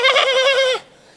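A person on a comedy stage imitates a lamb, giving one close, loud, quavering bleat that lasts under a second before cutting off.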